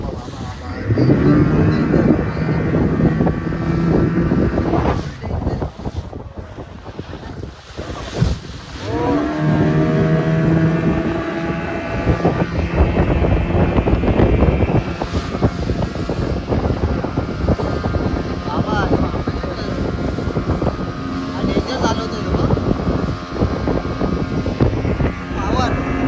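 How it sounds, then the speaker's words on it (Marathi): A parasailing motorboat engine drones steadily at sea off Alibaug, a continuous throbbing hum with wind, while voices talk over it. "बघा पॅरेशूटची बोट आहे."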